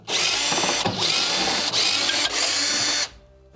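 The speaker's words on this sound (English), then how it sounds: "So we're going to go ahead and remove the 4 screws." Power driver backing out torque-style screws from a Whirlpool microwave magnetron, a loud, close whine in three quick bursts with brief gaps before it stops.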